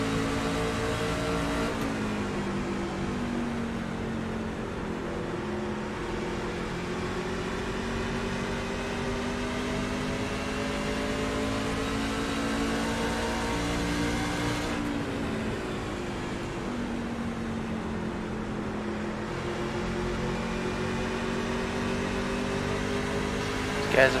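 Racing truck engines in a video game drone and rev steadily throughout, the pitch rising and falling as throttle is eased off and picked back up.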